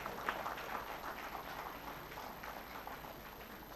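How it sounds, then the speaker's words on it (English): An audience applauds the achievers at a college day celebration at St Joseph Engineering College, a steady crowd clapping heard faint and distant, sustained without pause. "Have a big round of applause for all the achievers."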